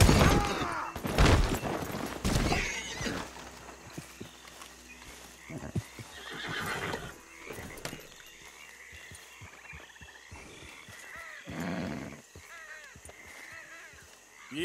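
A horse in a Western open-world game whinnies loudly, then hooves clip-clop along with further snorts and neighs. Frog croaks and faint talk sit in the background.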